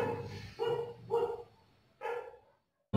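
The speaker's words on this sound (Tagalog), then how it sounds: "Pag may asong tumatahol na demonyo." A dog gives four short, sharp barks in an uneven rhythm, each a separate burst at moderate distance, with a short silence at the end.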